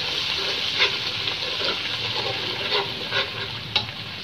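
Ginger-garlic paste and crushed green chili frying in a pan, a steady close sizzle with a few soft stirring scrapes and clicks and no voices.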